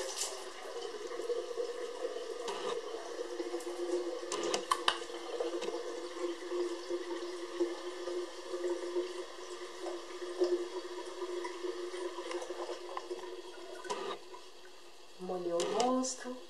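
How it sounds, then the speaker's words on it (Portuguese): Tap water runs steadily into a bathroom sink while hands splash water onto a face, with a brief louder splash near the end and no talking. "Deixa eu molhar um pouquinho o meu rosto"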